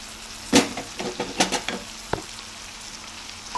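Tomato pieces tipped into a curry frying in a pan, raising bursts of sizzle with a few scraping stirs and one crisp knock, close and moderately loud with no talking.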